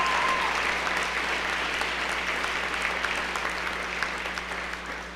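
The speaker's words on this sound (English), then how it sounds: "Let's give a round of applause." An audience at a college commencement ceremony applauds, a dense, sustained burst of clapping from a large crowd that tapers slightly toward the end.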